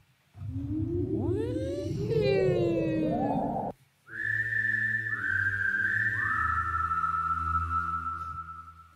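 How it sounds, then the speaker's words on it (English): Industrial-style whistling samples in a music track play loud and close: a sweeping, gliding whistle with harmonics and a low drone, a brief cut, then steady held whistle tones stepping down in pitch over a sustained bass. "It's like industrial whistling."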